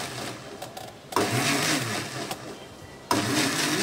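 A blender pulses a mango milkshake mixture in loud whirring motor bursts: one long burst, a brief dip, then a second burst starting near the end, with no talking.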